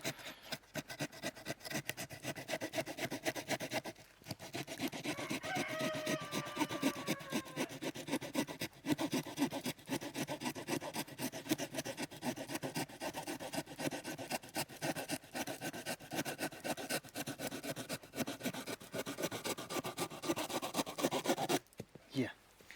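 A Victorinox Fieldmaster folding pocket knife cuts through material in real time with a continuous rough rasping of repeated strokes, close and moderately quiet for over twenty seconds.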